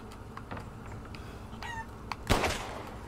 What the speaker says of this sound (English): Get over here, chicken.